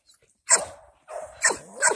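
An older female dog up for rehoming gives a few sharp, close barks with short gaps between them, loud and clear against an otherwise quiet background.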